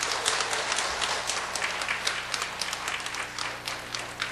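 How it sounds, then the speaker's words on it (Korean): A congregation at a Korean church mothers' prayer meeting claps to welcome a pastor coming forward: a continuous, fairly full round of applause with crisp individual claps, steady throughout and free of speech. "우리 조대봉 목사님 나오실 때 큰 환영의 박수 보내주시기 바랍니다."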